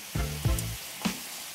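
Pitted cherries dropped into a hot frying pan, giving a couple of sharp bursts of sizzling that settle into a steady soft fry, close by and alone.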